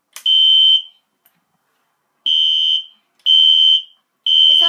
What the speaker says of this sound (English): Oh, really a loud alarm.